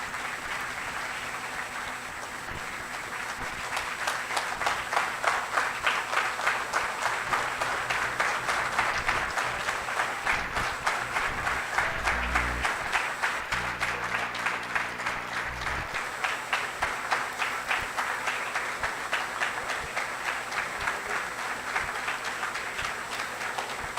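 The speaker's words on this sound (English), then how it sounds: "Thank you very, very much for the great applause." Sustained applause from a large audience at a chefs' seminar, dense rapid clapping that holds steady for over twenty seconds.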